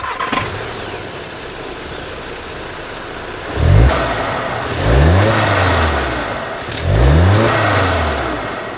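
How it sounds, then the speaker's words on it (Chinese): A 2021 Audi Q3 Sportback's EA888 2.0 TFSI turbo four revs up three times from idle, each blip rising and falling back in a smooth sweep, heard close and loud with no talk. "EA888 就是这样子的引擎声音。"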